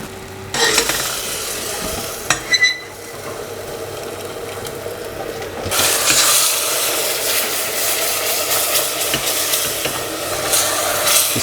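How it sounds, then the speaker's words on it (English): Sugar melted into toffee in a pan on the stove, with cream being poured in and stirred, giving a steady close sizzle and bubbling that grows louder and fuller partway through, with scraping stirs. "So now it's started to melt, we can turn up the temperature, and then we can go in with some cream."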